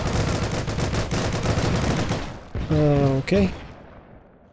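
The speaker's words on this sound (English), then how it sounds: "That was like a heavy machine gun, I think." Burst of heavy machine gun fire in the World War II shooter Heroes and Generals, a dense rapid string of shots filling the first two seconds, followed by a tonal in-game sound and a spoken word.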